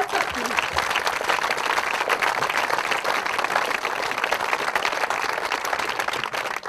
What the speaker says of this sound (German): Das ist ein grosser Applaus wert.